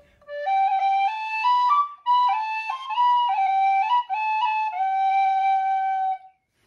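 A tin whistle plays the old English carol I Saw Three Ships as a clear, bright solo melody of sustained notes in a quiet room, with no talking.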